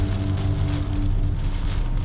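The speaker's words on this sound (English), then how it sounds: "It's pouring rain." Heavy pouring rain drums steadily on surfaces outdoors before a run, a dense, constant hiss with no voices.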